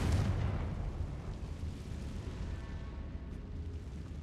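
Explosive spell blasts in Hogwarts Legacy, with a heavy rumbling boom at the start that decays into a dense, noisy roar filling the whole stretch, with no voices.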